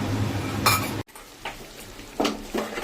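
Spice paste for a cauliflower curry is stirred in a pan, with a few distinct scraping and clinking strokes of a spoon against metal over a faint background, and no talking.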